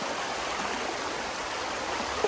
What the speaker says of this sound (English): So that when the water comes crashing down there, it will get smashed over.